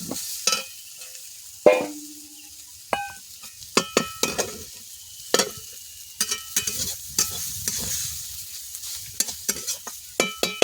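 Drumstick (sajne) greens fry in a pan in a Bengali village kitchen, with irregular scraping stirs and occasional utensil clinks over a soft, steady sizzle, close up and free of talk.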